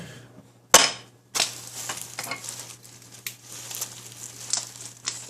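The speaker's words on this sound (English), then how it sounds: "Stop and stir. That feels like a good spot to stop and stir." Mayonnaise being stirred into a BLT salad mixture in a bowl, giving soft wet scraping and squelching strokes with a couple of sharp clacks of the utensil against the bowl, close up and with no talking.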